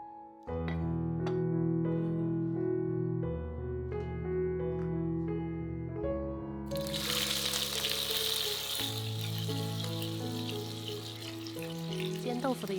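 Thick slices of tofu frying in homemade rapeseed oil. Sustained music plays throughout, and a bright, steady sizzle bursts in about halfway and continues under the music to the end.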